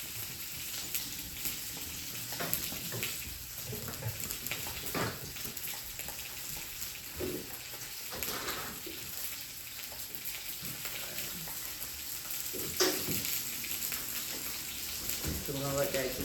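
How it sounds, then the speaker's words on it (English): A large pompano fillet searing in a hot pan, a soft crackling sizzle with popping spatter that rises near the end, running under quiet talk. "So I'm gonna let this pan sear on this end first."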